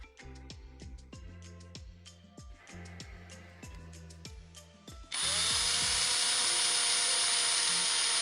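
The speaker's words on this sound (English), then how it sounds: "don't put your finger behind the drill bit when you're drilling" A power drill bites into material in a series of short, regular bursts of whirring, then runs in a long, loud, continuous high whine.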